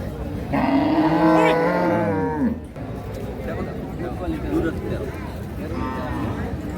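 A Friesian cow with a calf lets out a long, loud, close moo at the Ambari cattle market, followed by a busy crowd murmur and people talking.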